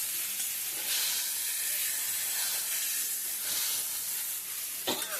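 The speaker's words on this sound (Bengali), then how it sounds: "এবার মশলাটা একটু কষাবো একটু জল দিয়ে কষাবো" A spice paste with black cumin is fried with a splash of water for a katla fish kalia, producing a loud, continuous hissing sizzle close up, with a brief clatter of stirring near the end.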